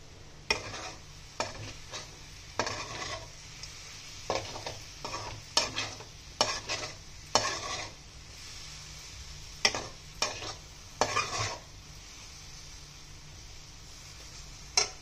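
Ridge gourd curry with lemon and salt stirred in a pan, with quick bursts of spoon scraping against the pan over a low sizzle, close up, in irregular clusters, and no voices.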